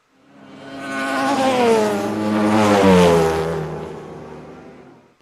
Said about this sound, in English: use a motorcycle sound, which I have here